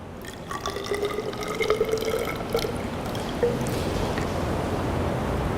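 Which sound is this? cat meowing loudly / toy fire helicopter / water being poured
water being poured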